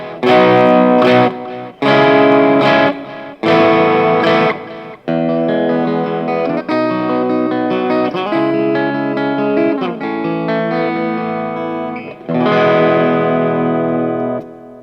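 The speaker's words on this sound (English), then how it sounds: "Okay, now I'm going to do some distorted tones. Going in reverse, this is the bridge position." Distorted Jazzmaster-style electric guitar on the bridge pickup, tone rolled back slightly, loud and close, playing three short punchy chord stabs followed by longer sustained, ringing chords.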